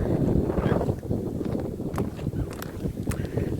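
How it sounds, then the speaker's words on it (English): Strong outdoor wind buffets the microphone in a dense, rough roar, with a few brief clicks and knocks breaking through, close and fairly loud, with no talking. "The wind was a little strong."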